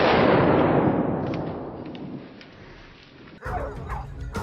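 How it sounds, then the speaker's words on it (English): A single loud gunshot cracks out during a wild boar hunt on a mountainside and rings off into a long fading echo, followed by a dog's barking. "A cold, single gunshot rang out."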